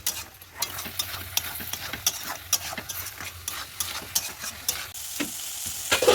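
Spice masala mixed with yogurt fries and sizzles in a pan while being stirred, with a steady close crackle punctuated by repeated scraping strokes of the spoon, and no voices.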